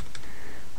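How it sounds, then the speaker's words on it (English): A few quick clicks of computer keyboard arrow keys, close and fairly loud, pressed in brief succession while working in an Ubuntu Linux terminal. "You can use the arrow keys to cycle through"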